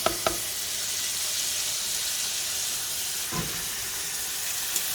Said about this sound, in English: I'm just gonna stir it. And leave it to boil nicely.